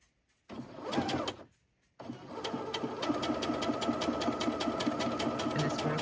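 A sewing machine stitches fabric at slow speed, starting with a brief burst, pausing, then running on in a steady, even chatter of needle strokes, close and clear with no talk.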